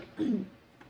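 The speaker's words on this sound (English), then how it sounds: "your cough is just wild" A single short, rough cough or throat-clearing burst up close, followed by quiet.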